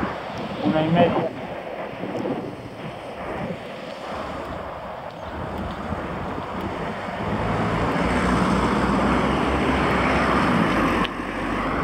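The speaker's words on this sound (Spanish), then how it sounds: "Uf, sopla un viento fuerte, frío." Strong cold northwest wind blowing loudly across the microphone outdoors, a constant gusty roar that builds toward the end, with a voice speaking briefly near the start.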